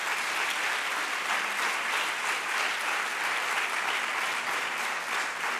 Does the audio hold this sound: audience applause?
yes